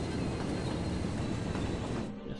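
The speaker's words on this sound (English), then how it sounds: "There's just something about watching the trains go alongside the motorways like that." Train running alongside a motorway, heard as a steady, loud broadband rumble and rush of wheels and traffic that fades slightly at the end, with no talking.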